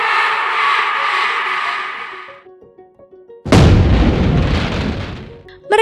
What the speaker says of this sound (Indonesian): Mereka berhasil melihat kembang api tepat setelah keluar dari terowongan.